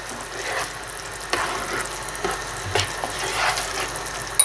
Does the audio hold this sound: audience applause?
no